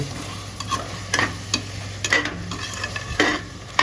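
Mutton intestine curry with masala bubbling and sizzling in a pan, a low simmer with intermittent scraping stirs of a spoon, close and moderately quiet, no voices.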